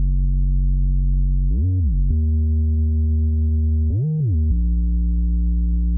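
Heavy bass tones in a music mix in Logic Pro X, loud sustained low notes with two short sliding pitch swoops, played alone without talk.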